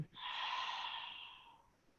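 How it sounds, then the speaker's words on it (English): One slow, audible breath exhaled through the nose or mouth during yoga, a soft airy rush lasting over a second and fading gradually, close and quiet. "Breathe in and breathe out"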